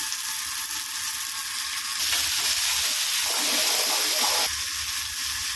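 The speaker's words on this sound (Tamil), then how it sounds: "இந்த இப்போ தக்காளி போடுறேன்" A handful of tomatoes hits a hot pan already frying garlic and onion; the steady sizzle swells into a louder, hissing burst for a couple of seconds, then settles back to a close, even crackle.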